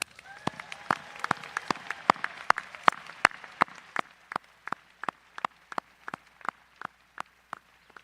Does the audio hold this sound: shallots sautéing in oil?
no